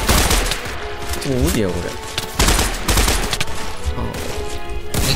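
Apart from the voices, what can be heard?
gunfire in video game Minecraft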